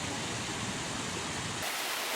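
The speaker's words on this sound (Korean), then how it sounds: "폭포인가 싶을 정도로 자연스럽게 흐르고 있는 공간이 있습니다." An artificial waterfall flows steadily inside a botanical garden greenhouse, a dense, even rush of falling water lasting under two seconds before it drops away sharply.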